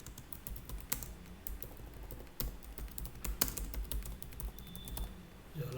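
Someone types code on a computer keyboard with close, irregular bursts of key clicks and occasional sharper taps, and no voices over them.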